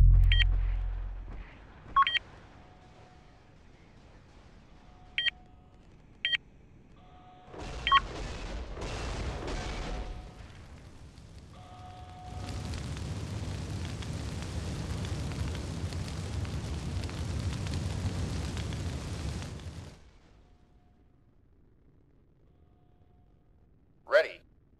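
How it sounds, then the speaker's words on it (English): In a 4v4 video game match on the Pillars map, a missile launches and explodes: scattered electronic beeps, then a sustained, rolling roar that lasts several seconds before cutting off. "Missile away."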